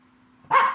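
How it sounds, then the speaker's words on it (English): A little pet dog gives a sudden loud bark, a single sharp burst after a quiet moment, close to the listener. "sorry about my little doggy. Then again, I'm not. She's just doing what dogs do"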